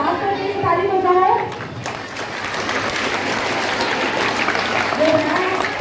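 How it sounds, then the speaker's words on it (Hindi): Applause swells from an audience at a school gathering, starting under children's chatter and a spoken voice, then becoming a steady, dense wash of clapping that continues to the end. "और Das sir की ताली बजाओ."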